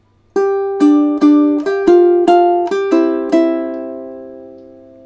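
Ukulele picking a single measure of a melody at a slowed tempo: eight clear plucked notes in an even rhythm, the last one ringing out and decaying, solo and close with no speech.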